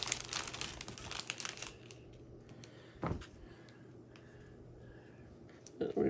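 Plastic packaging around embroidery floss on plastic cards crinkles and rustles close by in a busy burst, then quieter intermittent handling with a sharp crackle midway and another at the end.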